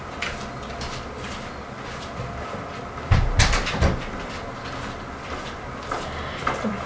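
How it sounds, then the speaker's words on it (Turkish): A door is closed indoors: a couple of soft knocks and a thud midway, then faint shuffling and household clatter. "Bir saniye kapıyı kapatıp geliyorum"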